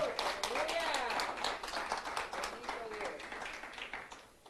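A Spanish-speaking church congregation claps strongly and continuously for several seconds during a sermon, a dense wash of hands with voices calling out over it.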